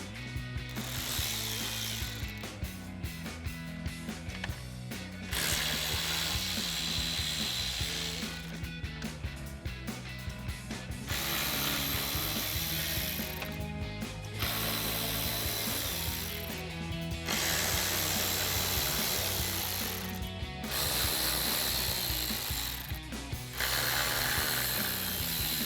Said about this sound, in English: we're going to be using our 7mm socket and remove a series of screws around the outside edge